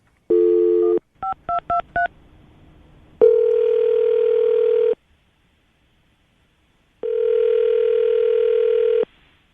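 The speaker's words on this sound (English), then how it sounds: "I'm going to call him right now, see if we can get him on the phone" An outgoing telephone call placed from a radio morning show studio: a quick run of touch-tone dialing beeps, then two long, loud ringback tones separated by silence, with no talking.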